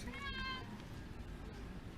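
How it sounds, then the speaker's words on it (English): A cat meows with a clear, drawn-out call in the first half second, close by, over steady low outdoor rumble after rain; a faint voice murmurs softly. "Here's our cat coming home."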